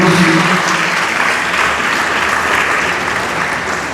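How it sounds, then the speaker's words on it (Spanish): Audience at a Catholic faith-formation talk on the Eucharist bursting into strong, sustained applause, a dense wash of many hands clapping that tapers slightly toward the end, with no talk over it. "Vamos a darles un fuerte aplauso"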